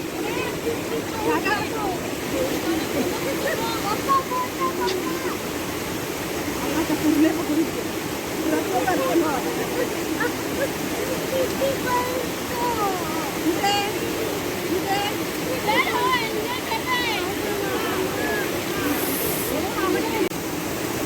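The Dhangar waterfall in Badlapur roars during the monsoon, a dense steady rush of falling water filling the background while people talk over it.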